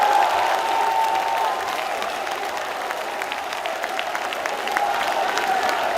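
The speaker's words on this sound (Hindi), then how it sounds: "जो लोग स्मृति ईरानी की बातों पर यकीन करते हैं वो हाथ उठाकर ताली बजाकर बताएं" A studio audience at a courtroom-style television talk show claps together in sustained, dense applause that fades slightly midway and then swells again, with no clear speech.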